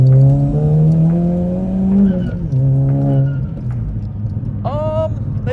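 A big-turbo 1.4 TSI VW Scirocco engine revs hard under acceleration, loud and close, with rising and falling tones through gear changes and a brief high squeal near the end, while people talk over it.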